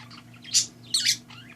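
A pet bird at home gives two short bright chirps, close and fairly clear over a low steady hum.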